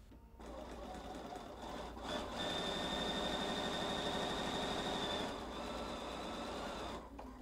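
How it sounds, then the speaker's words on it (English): A sewing machine stitches a seam on a quilted insulated tote, its fast, even whirring running steadily for several seconds up close, starting and stopping cleanly with no talking. "So I'm going to start sewing right here on this corner and sew down to this corner"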